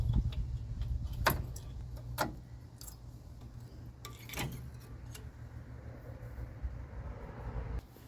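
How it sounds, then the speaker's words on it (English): Old brake pads worked out of the caliper on a 2006 Ford Ranger: a few sharp metallic clicks and clinks spaced several seconds apart over a faint low background hum, no talking. "And then pop the old brake pads out."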